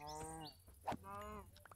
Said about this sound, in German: Wir haben aber noch mal Kühe.